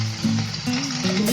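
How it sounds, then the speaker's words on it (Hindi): Oregano dropped into a hot frying pan gives a steady sizzle with soft crackling, close and fairly loud, and a low tonal hum runs underneath. "इसमें हम ऑरिगेनो डाल देते हैं"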